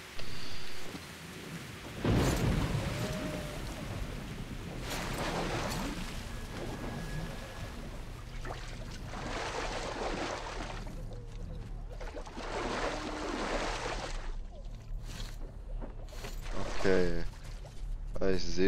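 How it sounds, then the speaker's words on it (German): Heavy downpour and rolling thunder in the video game Metro Last Light Redux, a steady wash of rain with loud rumbling bursts, while someone talks over it. "es regnet in Strömen"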